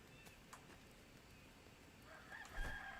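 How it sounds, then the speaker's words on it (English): Rooster crowing in the Enshrouded video game, a distant call over a steady ambient game soundscape, with faint clip-clop-like noises and a brief louder swell near the end. "I didn't hear the rooster crow."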